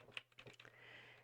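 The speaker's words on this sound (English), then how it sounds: "I'm just going to start typing Mississippi and then marriages" Rapid keystrokes on a computer keyboard while entering a search, a quick burst of close, light clicks followed by a softer steady tail.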